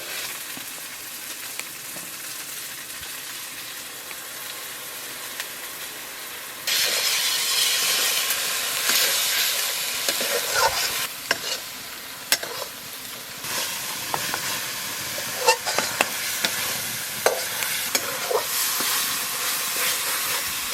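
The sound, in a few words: spice paste with turmeric and salt frying and being stirred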